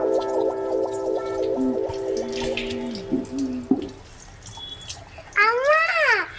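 Water runs from a tap as a soft, steady wash with occasional drips. Sung or voice-like tones sound over it and rise again near the end.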